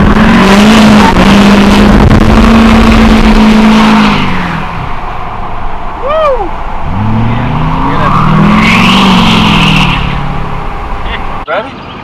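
Duramax diesel GMC Sierra Denali pickup truck accelerating hard past the listener outdoors, a loud rising engine roar that fades, returns for a second pass, and ends with a sharp pop, with people talking over it.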